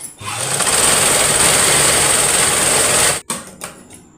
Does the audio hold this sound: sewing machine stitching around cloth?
yes